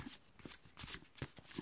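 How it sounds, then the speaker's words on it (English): Oracle cards from the Oracle of Visions deck being shuffled by hand, a quick run of crisp papery riffles and flicks, close and clear with no talk. "I will also take a card from the Oracle of Visions by Cyril Marchetti"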